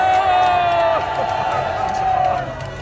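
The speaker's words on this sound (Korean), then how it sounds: "뜨거운 함성을 보내주시기 바랍니다" Large outdoor crowd at a Gwanghwamun political rally cheering and shouting loudly, a sustained roar with whoops and a prolonged sung or shouted tone, voices mixed in throughout.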